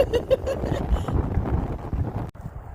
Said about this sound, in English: So windy, oh my gosh.